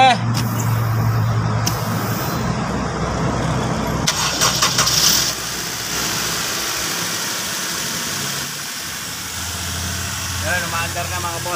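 A second-generation Honda CR-V engine cranks and catches, then settles into a steady idle after a power steering pressure switch repair, with a voice talking over the running engine.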